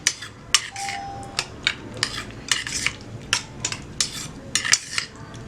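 A spoon stirs an eggless, oil-free mayonnaise mixture in a bowl, making brisk repeated clinks and scrapes against the sides at an uneven rhythm, close and with no talk.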